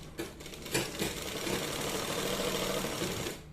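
A sewing machine sews a half-inch seam on a designer top, a close, steady mechanical hum with faint rhythmic ticking through a short run.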